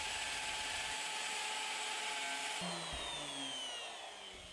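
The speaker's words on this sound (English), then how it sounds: "Now position the jig to route the holes for the connecting bolts. Cut these in stages as before." A power router cuts bolt holes through a kitchen worktop guided by a jig, producing a loud, continuous high-pitched whine that shifts pitch partway through as the cutter bites deeper, with no talk.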